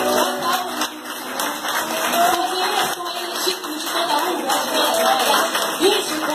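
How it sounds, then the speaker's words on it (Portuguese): A congregation claps along during a worship service, with a brisk, steady patter of many hands mixed with singing and voices in a reverberant church. "Aleluia, palmas."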